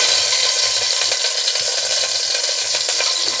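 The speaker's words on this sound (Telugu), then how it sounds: "కుక్కర్ హీట్ ఎక్కింది కదా, అందులోనే ఒక 2 స్పూన్ల నెయ్యి, సన్నగా కట్ చేసి పెట్టుకున్న అల్లం ముక్కలు" Thin-cut ginger pieces fry in two spoons of ghee in a hot pressure cooker, a loud, dense, close sizzle with crackling pops and soft stirring scrapes throughout.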